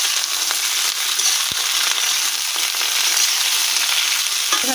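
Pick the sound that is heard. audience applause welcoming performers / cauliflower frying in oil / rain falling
cauliflower frying in oil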